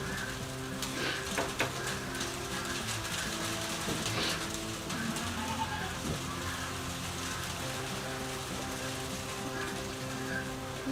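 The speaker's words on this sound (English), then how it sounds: "And the rain." Steady rain falling at a farm where livestock are tended, a continuous soft hiss of drops on surfaces with a low background hum, constant and unbroken, with no talking.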